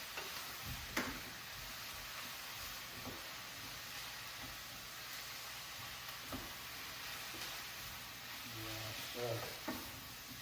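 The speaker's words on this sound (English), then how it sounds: "make sure you stir this really good" Mushrooms cooking down for chicken marsala sizzle softly in a pan while being stirred, a quiet steady hiss with occasional scraping knocks and a brief spoken word.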